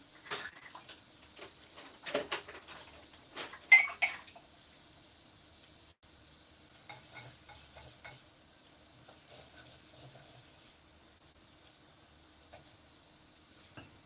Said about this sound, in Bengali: ডিম রান্না হচ্ছে ডিম ডিম মাটির পাতিলে ডিম